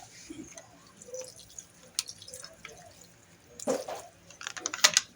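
Vinegar poured into a cooking pot for pork humba, heard as a few soft drips and brief splashy trickles near the end, close and fairly quiet.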